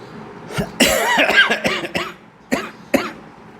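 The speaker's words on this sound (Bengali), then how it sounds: "আজ কথা বলতে গেলে কাশি আসছে" Repeated coughing from one person, close and loud: a long burst of harsh coughs and throat clearing, then two separate sharp coughs after a short pause, with no speech.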